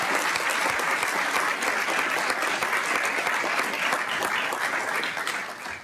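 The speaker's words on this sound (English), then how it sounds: "if we can give them a round of applause" Full round of applause for high school musicians at a school district governing board meeting, dense steady clapping from a room of people that tapers slightly at the end.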